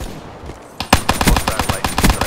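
Rapid gunfire from the video game Call of Duty Black Ops 3 rings out as a loud, dense string of closely spaced shots that starts abruptly partway through and continues to the end.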